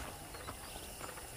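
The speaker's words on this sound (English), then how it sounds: "let's see if you can still ride a horse" Rhythmic clip-clop of horse hooves in the Western video game Red Dead Redemption, a quick, steady gait heard close and clear, with no talking.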